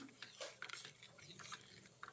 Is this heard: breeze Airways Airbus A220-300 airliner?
no